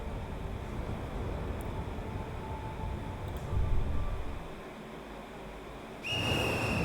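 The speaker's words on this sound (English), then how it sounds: "As the monstrous little raincoat visitor blows his whistle, he steps back into the shadowy darkness." A whistle is blown in the video game Ghostwire: Tokyo: a sustained, bright tone starts abruptly near the end and holds steady over a dark, rumbling ambient background.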